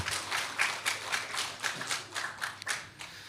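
Sparse handclaps from a church congregation during a Korean Chuseok holiday service, quiet, distinct claps in an uneven rhythm rather than a full ovation, heard faintly in a hushed room.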